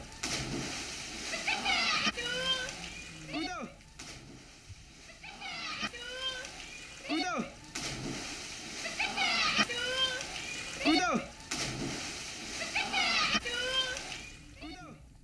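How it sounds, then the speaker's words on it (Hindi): Children diving and splashing in floodwater that has entered homes during heavy rain in Madhya Pradesh, with repeated bursts of splashing and sloshing between loud kids' shouts and chatter throughout. "उसी पानी में गोता लगाते बच्चे नजर आ रहे हैं"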